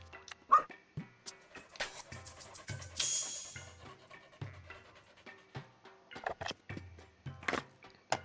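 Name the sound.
dog barking and whimpering in a video game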